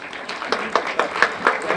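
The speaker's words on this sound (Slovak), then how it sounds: "Blahoželám a ešte jeden veľký, veľký potlesk." Moderate crowd applause at an outdoor tree-planting record event in Slovakia's High Tatras and Nová Baňa, a steady patter of clapping lasting about two seconds at middling distance.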